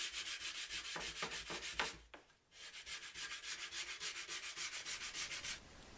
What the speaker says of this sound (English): Just need to do a little bit of sanding to clean all that stuff up.